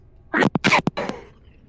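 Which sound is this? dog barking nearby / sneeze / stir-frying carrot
sneeze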